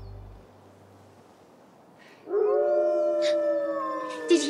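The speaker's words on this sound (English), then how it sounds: "Wolf Howl came from ahead." A long wolf howl rises and holds steady after a couple of quiet seconds, carrying clearly through the open air with a brief faint second call near the end.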